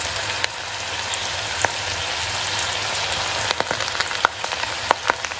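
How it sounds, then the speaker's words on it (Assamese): Okra frying in hot oil in a wok for a crispy ladyfinger fry, a steady dense crackle and sizzle with scattered sharper pops, close by and without talk. "কেৰাহীত মই তেল গৰম কৰি দিছোঁ, তেল গৰম হৈ গ'ল। এতিয়া মই ইয়াত ভেন্দিখিনি দি দিম।"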